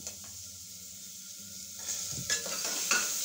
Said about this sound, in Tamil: கரியாமல் பொன்னிறமாக இதை நல்லா வதக்கணும்